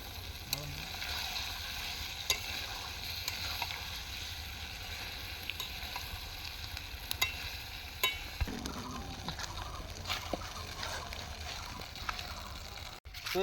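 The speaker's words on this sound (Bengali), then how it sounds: "গোটা দারচিনি গোটা এলাচ লবঙ্গ দিয়ে একটু ফোড়ন দিয়ে নেব" Whole cinnamon, cardamom and cloves crackle and sizzle steadily in hot oil for a paneer masala tempering, a continuous close frying hiss with occasional sharp pops and clinks, no talking.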